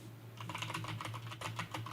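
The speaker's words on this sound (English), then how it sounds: "You can hear the typing." Rapid typing on a computer keyboard, a dense run of close, crisp key clicks over a steady low hum, with no talking.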